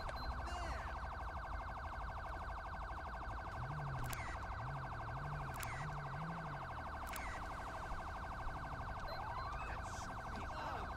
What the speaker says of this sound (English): it's got the most annoying siren on it